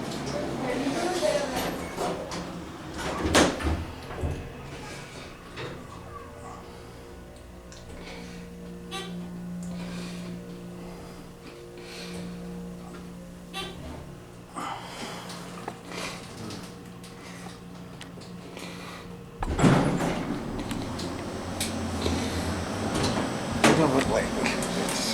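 Dover Impulse hydraulic elevator doors at a Country Inn & Suites in Rock Falls slide open and shut, giving louder rumbling bursts near the start and again near the end over a steady low mechanical hum.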